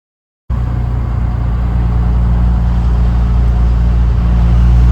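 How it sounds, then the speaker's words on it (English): A lowboy truck on the road, its engine starting abruptly and then holding a loud, steady low rumble with a constant drone close to the microphone. "Our new lowboy truck's on the road."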